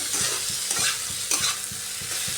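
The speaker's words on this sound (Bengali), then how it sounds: "একটু ফ্রাই করে নিচ্ছি এর মধ্যে সামান্য লবণ দিয়েছি যাতে পেঁয়াজটা তাড়াতাড়ি সফট হয়ে আসে" Onion frying with a little salt in a pan, a continuous sizzle broken by regular scraping strokes of a spatula or spoon about every third of a second, close and alone.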